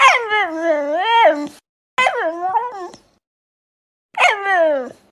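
A pet dog whines and howls in long, rising and falling vocal bursts, close and loud, three separate drawn-out cries with short silences between, sounding almost like speech.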